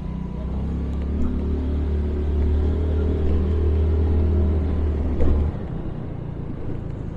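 An old antique vehicle with traction mode rumbles steadily as it drives along, a low continuous engine drone with a brief bump near the end.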